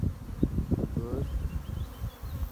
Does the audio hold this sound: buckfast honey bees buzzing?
yes